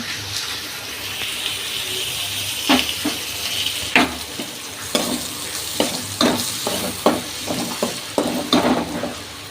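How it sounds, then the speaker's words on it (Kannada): Onion and tomato frying in oil in a pan, a steady sizzle broken by repeated sharp scraping stirs close up, with no talk over it. "ಈರುಳ್ಳಿ ಮತ್ತು ಟೊಮ್ಯಾಟೊ ಫ್ರೈ ಮಾಡ್ಕೊಳ್ತೀವಿ ಸ್ನೇಹಿತರೆ"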